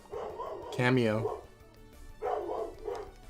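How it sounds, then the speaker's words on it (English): A puppy barks nearby in a room: a soft yip, then a sharp louder bark, followed by whiny vocal sounds, with a person speaking briefly over it. "Oh, it's the puppy."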